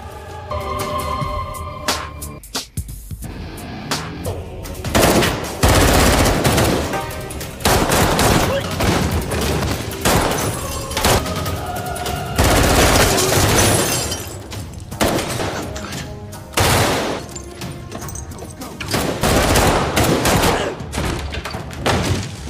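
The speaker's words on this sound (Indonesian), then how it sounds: "mereka langsung disambut oleh Anya dan Ray dengan tembakan senjata api" Bursts of film gunfire crack and rattle repeatedly, some rapid and automatic, mixed with shattering glass and action-scene noise, with brief voices.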